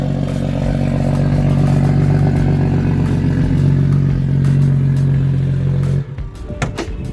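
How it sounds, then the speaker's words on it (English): A 600+ hp BMW 135i with a resonator-only exhaust and no cats revs hard and loud with a sustained droning roar, then cuts off abruptly near the end, leaving clattering noises. "I have just the resonators left on the exhaust."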